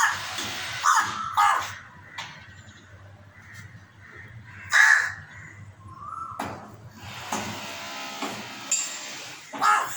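A crow gives a series of harsh, parrot-like calls and squawks, several loud bursts spaced irregularly over ten seconds with quieter chatter between, fairly close.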